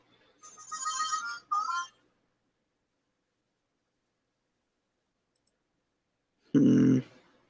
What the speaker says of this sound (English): Did you get a notification, Dalton